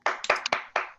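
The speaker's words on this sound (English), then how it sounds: "clap it up for that." A handful of sharp, separate handclaps at a comedy show, loud and close, with uneven gaps rather than a full round of applause.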